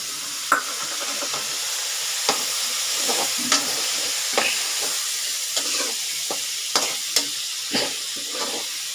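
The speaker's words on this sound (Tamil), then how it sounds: "நடு நடுவில் நீங்கள் இந்த மாதிரி கிளறிட்டே இருக்கணும்" Potatoes and onions fry in a pan with a steady sizzling hiss, while a spoon stirs them in repeated scraping clacks at an uneven rhythm, close and fairly loud, with no voices.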